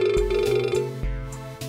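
A phone call ringtone plays through the Entune system of a 2014 Toyota Corolla, with steady electronic tones pulsing in a repeating pattern, clear and close with no voices.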